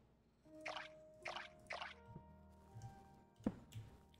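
Watering crops in the video game Core Keeper: a handful of soft, wet splashing drips, three in quick succession and then another after a pause, fairly quiet and close, with faint game music and no talking.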